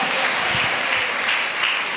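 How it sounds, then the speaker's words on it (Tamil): Church congregation clapping during a Tamil Christian service, steady continuous applause filling the room for the whole stretch, fairly loud and even, with no clear talking. "கொஞ்சம் கைத்தட்டி நல்ல ஸ்தோத்திரம் பண்ணுங்க"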